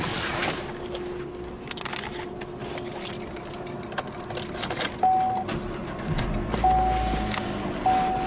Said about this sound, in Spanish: Enciende correctamente